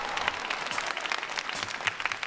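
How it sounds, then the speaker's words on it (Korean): A studio audience on a trot music review show breaks into brief, steady applause, a dense wash of clapping at moderate distance with no speech over it. "박수 주세요 하는데 우리가 박수를 안 칠 수가 없네요"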